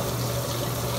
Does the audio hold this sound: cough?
no